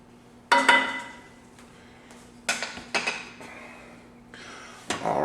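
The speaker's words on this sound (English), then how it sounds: "Give this a stir." A spoon stirs beef roast and broth in a pot, giving a few sharp metallic clanks and scrapes in separate bursts with quiet gaps between.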